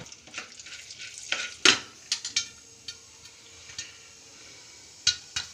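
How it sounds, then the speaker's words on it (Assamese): Popcorn kernels pop inside a pressure cooker: sharp, scattered pops and clicks arrive at irregular intervals over a faint background hiss, with a couple of louder bursts and no talking. "আমাৰ পপকৰ্ণ বনি আছে এইটো কুকাৰৰ ভিতৰত।"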